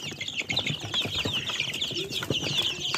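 Several Australorp hens cluck and murmur together nearby in a continuous, busy chorus, with occasional rustling.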